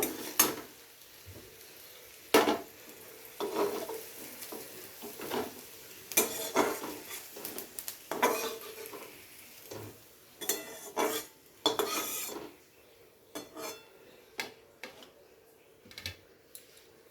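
Fried onions (beresta) being lifted from a pan onto a plate, with repeated close metallic clinks and scrapes of a utensil against pan and plate, spaced in irregular bursts over a quiet kitchen background.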